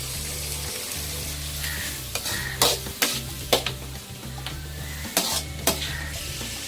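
Chopped onion fries in a pan that already holds urad dal for shark fish podimas. A loud, continuous sizzle runs over a low stove hum, and several sharp spoon scrapes and clanks punctuate it; no one speaks.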